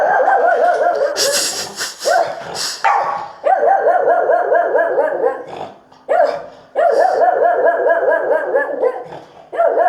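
A dog barks loudly and repeatedly nearby in rapid bursts, with short pauses between the volleys.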